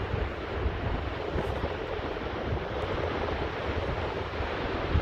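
On Barnborough Beach, looking across to Holy Island, surf and wind make a steady, loud, broadband roar, with gusts buffeting the microphone throughout and no one speaking.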